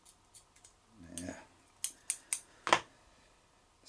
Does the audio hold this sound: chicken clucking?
no